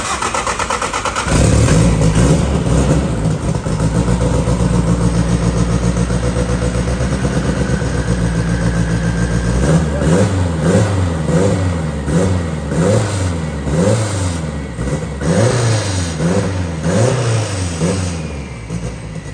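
A truck engine runs steadily in a shop during a belt alignment check, then revs up and down in repeated surges, loud and close, with no talking.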